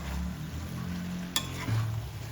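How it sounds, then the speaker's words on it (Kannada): Cut drumsticks being stirred into a sizzling aloo curry in a pan, soft scraping and frying crackle close by with one sharp clatter midway, no voices. "ಕಟ್ ಮಾಡಿರೋ ನುಗ್ಗೆಕಾಯಿ ಹಾಕ್ಕೊಂಡು ಮಿಕ್ಸ್ ಮಾಡಿ ಒಂದು ಸ್ವಲ್ಪ ಹೊತ್ತು ಬೇಯಿಸ್ಕೊಳ್ಳೋಣ"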